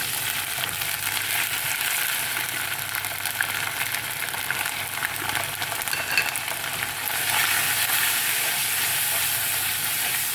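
Deeply browned onions frying with ginger, cumin and garlic paste for a raw-mango fish curry, a continuous loud sizzle with stirring scrapes that swells louder near the end, no talking.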